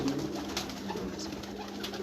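Pigeons on a rooftop loft coo softly and steadily, a low murmuring drone with faint outdoor ambience and no voices.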